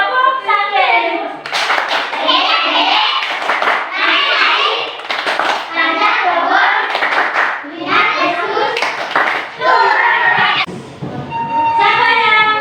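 A group of children claps hands together in a church gathering, with loud bursts of clapping mixed with their voices throughout.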